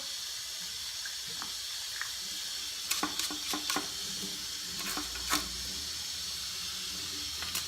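Water runs steadily from a tap while a Vidalia Chop Wizard vegetable chopper is rinsed under it, with a few brief clattering knocks and splashes partway through.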